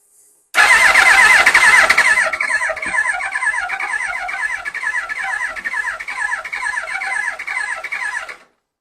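A Yamaha R1 sport motorcycle cranks for about eight seconds without starting, its starter whirring in a fast, steady rhythm, loud and close, then stops.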